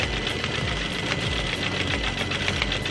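A sewing machine stitches continuously during free motion quilting, a fast steady mechanical chatter heard close and unbroken, with no voices.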